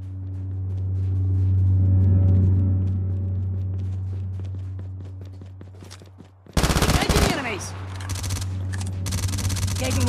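Automatic gunfire in a battle royale shooter game, bursts of rapid shots cutting in loudly over a steady engine-like drone and footsteps, with dense firing filling the second half.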